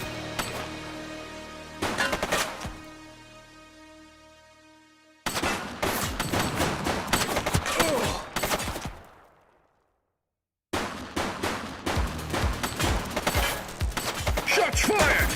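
Gunfire in The Precinct police video game shootout: dense rapid bursts of shots and crackling volleys, loud and close, broken by a ringing lull and a brief silence before the firing resumes.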